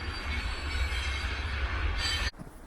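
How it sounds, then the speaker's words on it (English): A steady, loud rumble of a train rolling past close by, heard from a pond at Bruce Vento Nature Sanctuary in winter, with a bright metallic hiss that cuts off abruptly near the end. "the noise in the background, that's a train going by right over there."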